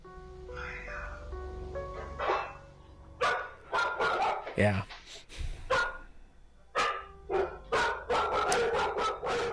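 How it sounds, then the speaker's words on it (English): A frightened dog barking in rapid bursts, loud and close, with whining tones early on before a run of sharp repeated barks; a person briefly speaks. "the dog's freaked out about it"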